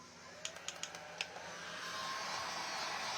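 A heat tool blows hot air to dry fake cookie icing. Several quick clicks come first, then a steady whooshing blow that grows slightly louder and holds to the end.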